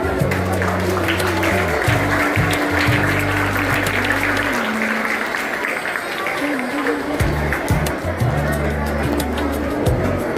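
Steady applause from a crowd at a school Yoga Day celebration runs throughout, with a voice talking loudly over it in bursts.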